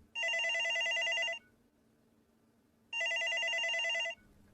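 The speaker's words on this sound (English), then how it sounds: "Rav was interrupted when the phone rang." A telephone rings in two long electronic bursts with a pause between them, clear and fairly close, no voices present.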